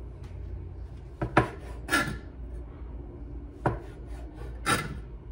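Knife slicing mushrooms thinly on a cutting board, four separate soft cuts each ending in a light knock on the board, spaced unevenly and heard up close in a quiet kitchen.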